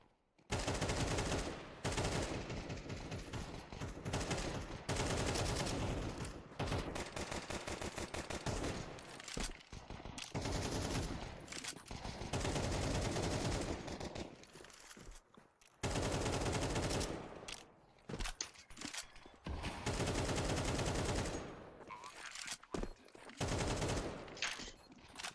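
Rapid bursts of P50 gunfire crackle through a Rainbow Six pro league match, dense repeated volleys broken by short pauses and staying loud throughout, with little talk over them.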